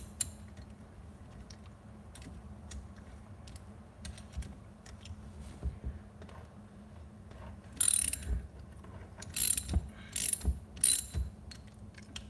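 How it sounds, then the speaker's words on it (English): Socket ratchet clicking while turning a bolt on a Predator 212 small engine during reassembly: soft, close, irregular clicks over a quiet hum, with a few louder bursts of rapid ratcheting near the end. "Like it's barely initiating the ratchet."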